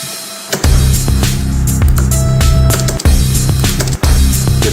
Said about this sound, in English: That was like my crash with a lot of reverb personally